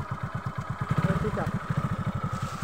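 A motorcycle engine idles steadily with a regular low chugging pulse while the clutch is held and a gear is engaged during a beginner riding lesson, the note swelling slightly mid-clip, with faint background noise.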